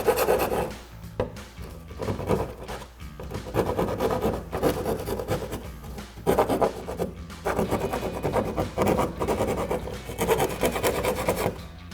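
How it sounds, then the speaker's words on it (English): A hand file rasping back and forth along the edges of freshly drilled holes in a 2024-2025 Mustang hood, steady rhythmic strokes with brief pauses, close and alone without talk. "take your file, clean up your edges."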